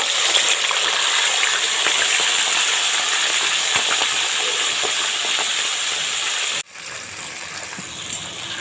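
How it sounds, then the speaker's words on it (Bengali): Chicken frying in leftover oil from frying potatoes, a loud, steady sizzle that cuts off abruptly and then resumes slightly quieter; no talking. "এই আলু ভাজা তেলেই চিকেনটা ভেজে নেব"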